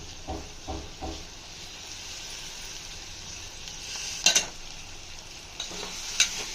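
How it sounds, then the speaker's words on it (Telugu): Coriander and curry leaves are stirred in hot oil for a tamarind drumstick curry, giving a soft continuous sizzle with a few low scrapes and a couple of sharp clinks of a utensil against the pan. "కొత్తిమీర, కరివేపాకు ఆయిల్లో మగ్గేలా కలుపుకోవాలి."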